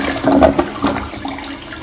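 A first-generation Gerber Aquasaver toilet flushing up close, a loud rush of swirling water that peaks early and then tapers off over under two seconds.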